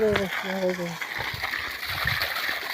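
Someone washes hands and feet under water from a solar-powered pump outdoors, with steady splashing and sloshing close by while a person talks over the running water.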